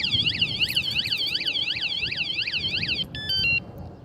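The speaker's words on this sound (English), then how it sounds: "Yeah, I put an alarm on here." An anti-theft alarm fitted to an electric bike, a Magicycle Deer 26, wails in a fast, repeating warbling sweep, loud and close, then switches to short stepped electronic beeps before cutting off.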